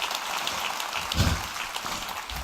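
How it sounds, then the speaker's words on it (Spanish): Scattered clapping from a church congregation during a service, fairly even and moderately loud, with a brief low thump in the middle. "No sé si le hace un aplauso"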